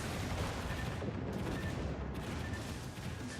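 Dense, continuous rumbling barrage of ship gunfire in World of Warships, heavy low booms blending into a steady roar with no talk.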